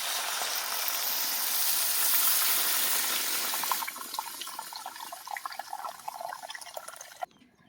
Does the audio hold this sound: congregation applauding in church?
no